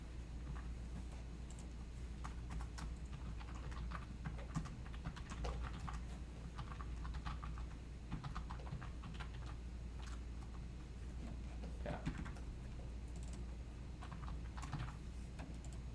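Fast, continuous typing of code on a computer keyboard, with dense close-up key clicks and irregular bursts over a low steady hum, and no talking.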